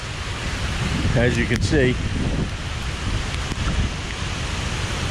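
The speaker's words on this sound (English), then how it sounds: "Here comes the torrential rain and the wind, which is pretty bad," Torrential rain and strong wind of Hurricane Nicole roar beside a causeway, a dense steady wash of noise, with someone speaking briefly over it near the middle.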